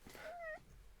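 One short, faint meow from a cat, a thin rising and falling call lasting about half a second over a quiet background.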